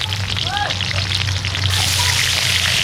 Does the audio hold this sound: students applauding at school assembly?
no